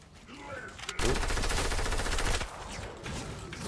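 Rapid automatic gunfire from a Fortnite match bursts out loud and dense for about a second and a half, then continues more sparsely at lower level with game sounds underneath.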